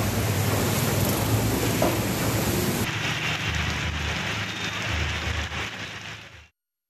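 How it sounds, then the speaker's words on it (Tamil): Heavy rain falls around Avinashi in Tiruppur district, Tamil Nadu, as a loud, dense, steady hiss of drops that thins slightly partway through and then cuts off abruptly near the end. "தமிழ்நாட்டில் திருப்பூர் மாவட்டம் அவிநாசி மற்றும் சுற்றுப்பகுதிகளில் 1 மணி நேரத்திற்கும் மேலாக மழை பெய்தது"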